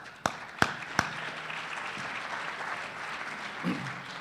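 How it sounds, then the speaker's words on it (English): An audience at an energy summit luncheon applauds: a few sharp claps start it, then a soft, even wash of clapping carries on at moderate distance. "Would everyone give Jim a round of applause?"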